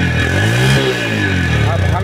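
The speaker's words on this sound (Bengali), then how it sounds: "এটা নতুন গাড়ির সাউন্ড" A TVS Metro Plus 100cc motorcycle engine revs steadily and close by at a bike center, with a slight surge partway through and talk over it.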